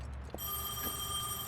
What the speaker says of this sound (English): Oh, that's a phone.